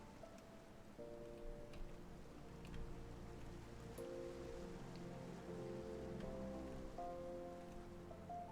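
Rain falls steadily in a video game, a soft continuous wash of drops heard alone beneath sustained tonal game music that changes notes every few seconds.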